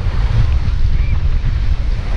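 Strong wind buffets the microphone at Praia do Francês beach in Brazil, a loud continuous low roar of gusts over the wash of ocean surf, with no voices.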